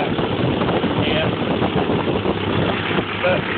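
A 1978 Triumph Spitfire engine idling after head gasket replacement, a steady mid-pitched rumble with an exhaust leak puffing under it, running not quite in tune, heard close and continuous.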